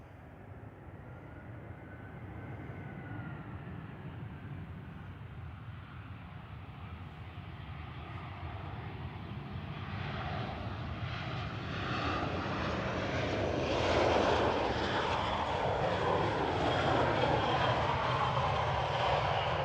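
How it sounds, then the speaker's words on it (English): A Lufthansa Airbus A320 Classic on arrival from Munich at Manchester Airport, its engine roar heard from a distance and slowly building louder as the jet draws nearer, a steady broadband rumble with no talk. "This is an A320 Classic."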